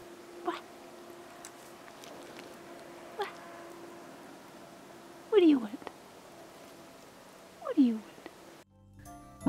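A cat meows outdoors. Two loud, clear, drawn-out meows come near the end, with a few fainter, shorter calls earlier over a low steady background hum.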